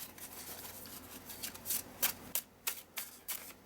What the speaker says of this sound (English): Shuffle like a proper deck of cards,